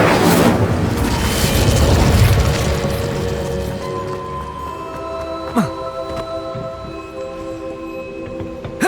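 An Incendio fire spell bursts in Hogwarts Legacy, a loud whooshing blast that swells over the first few seconds and then fades into lighter crackles and small pops.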